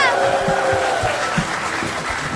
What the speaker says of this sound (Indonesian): Sekali lagi tepuk tangan untuk 3 diva.